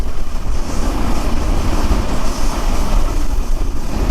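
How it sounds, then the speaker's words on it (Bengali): Onboard the Chilahati Express as it pulls into Tangail railway station, a loud continuous rumble and rushing roar of the moving train with wind buffeting, dense and unbroken. "আমাদের ট্রেন এখন প্রবেশ করলো টাঙ্গাল রেলওয়ে স্টেশন"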